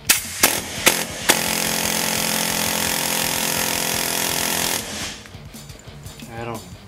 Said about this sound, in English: Get the air hammer.